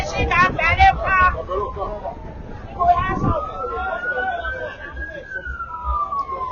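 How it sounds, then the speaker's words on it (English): A police car siren wails with a slow rising and falling pitch, moderately loud over a busy outdoor street, while people talk at the start and middle. "We're hearing the whistling of a siren."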